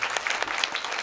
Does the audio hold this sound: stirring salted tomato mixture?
no